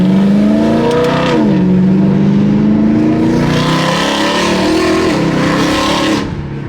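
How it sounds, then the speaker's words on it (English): A BMW E92 M3 engine revs loud and close, its pitch climbing, dipping briefly, then rising again in a sustained growling roar. "You guys want a quick little rev?"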